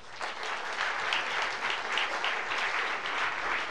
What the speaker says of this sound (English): A round of applause to the amazing panel, and thank you very much.